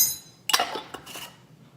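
A utensil scrapes and clinks against a bowl while baking soda is mixed into gluten-free cookie dough, a couple of sharp close knocks followed by softer stirring scrapes.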